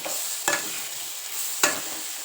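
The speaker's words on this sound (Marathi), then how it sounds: "असं छान मस्त वाटण हलवून घ्यायचं आहे" Spice paste with jaggery gets stirred in a pan over a low flame, two distinct spoon scrapes standing out over a soft continuous sizzle close by.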